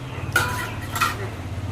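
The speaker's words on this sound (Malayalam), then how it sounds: "ഓരോ പാത്രമായിട്ട് എടുത്തോണ്ട് തരുകയാണ്." Dishes and metal pots being picked up and handed over one at a time at home: two short clattering clinks, close and moderately loud, over a faint low background hum, with no talking.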